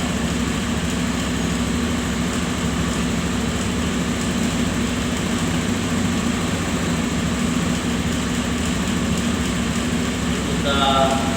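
Automatic scooter engine idling steadily around 1620 rpm during electronic fuel system maintenance, a continuous even hum with a faint brief chirp near the end.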